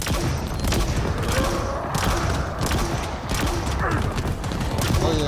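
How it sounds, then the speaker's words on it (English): Sustained gunfire in the Halo Infinite campaign pours toward the player, a loud, busy rattle of shots and thuds that runs without a break, mixed with other battle noise. "Why the fuck they shooting at me?"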